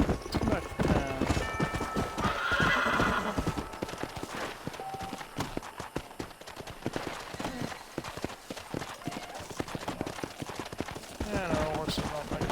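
Horse hooves clip-clop steadily in Red Dead Redemption, a continuous trotting rhythm close by with occasional neighs and whinnies, while people talk over the top.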